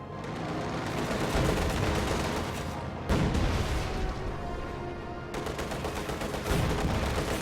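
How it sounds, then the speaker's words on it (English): Gunfire in a WWII strategy video game, a loud dense barrage of rapid shots and bursts that continues without a break, with sudden sharp changes in intensity and no talking. "The enemy is firing on our HQ."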